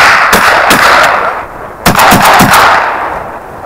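Benelli M4 Super 90 semi-automatic shotgun firing outdoors: two loud shots in quick succession, then a pause and a rapid string of about four more shots, each a sharp blast with a brief echo.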